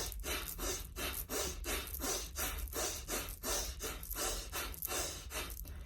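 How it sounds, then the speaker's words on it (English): Pranayama breathing exercise: a repeated series of deep, forceful breaths through the nose, each a short noisy rush, in a steady rhythm of about two per second, close to the microphone with no speech. "so inhale, stomach comes out,"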